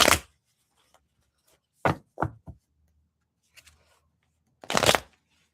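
A deck of cards is shuffled by hand in a quiet room, making several separate riffling bursts with pauses between them, close and crisp, with a louder final riffle near the end.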